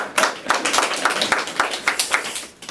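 A small group claps in a rhythmic, fairly close patter, the individual claps clearly separated and steady for a few seconds before stopping, at a talk show held after an interview.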